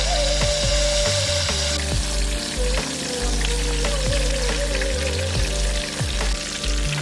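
A whole big fish deep-frying in hot oil in a wok, loud continuous sizzling and crackling close up, with occasional clicks and knocks of utensils.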